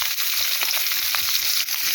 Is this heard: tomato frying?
yes